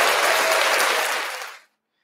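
A short burst of applause is sent to listeners celebrating birthdays during a broadcast rosary. The dense, even clapping fades quickly and cuts to silence after about a second and a half.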